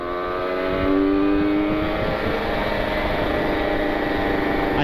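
A Kawasaki Ninja 150 RR two-stroke sport bike with an aftermarket exhaust revs hard and holds a loud, rising buzzy engine note up close, with no talk.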